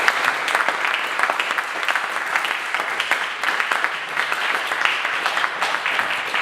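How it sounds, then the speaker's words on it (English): Sustained applause from a sizable audience, dense steady clapping for several seconds with no talking. "Let's give them a round of applause."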